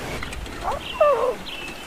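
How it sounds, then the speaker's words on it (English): A young lion cub calls out in the wild in Africa, a short wavering cry heard at moderate distance over quiet ambient bush noise, with a brief second rising call following. "Sounds like another lion cub."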